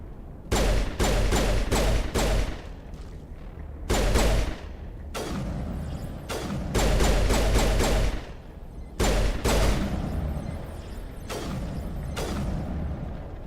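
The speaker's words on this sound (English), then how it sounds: "who's going crazy with the sniper over there?" Sniper rifle fire from teammates in the Mass Effect video game, booming in repeated loud bursts of rapid shots separated by short gaps.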